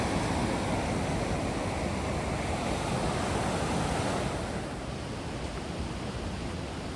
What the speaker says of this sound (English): The tide's up, and we've actually got quite a pebble beach now.